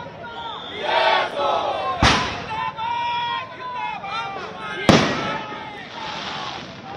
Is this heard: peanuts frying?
no